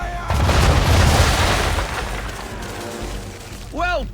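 Ship broadside cannons firing round shot in Assassin's Creed 3, a heavy booming volley that rumbles loud and near, then decays over a few seconds, ending with a short tonal whoosh.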